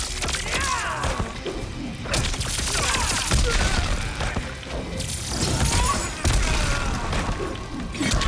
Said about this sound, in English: What keeps exploding on the ground?